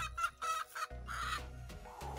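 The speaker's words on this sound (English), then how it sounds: "There's a hen underneath there." A hen clucking beneath a nesting box in a chicken coop, short close bursts of clucks at first that run into a longer, fuller call.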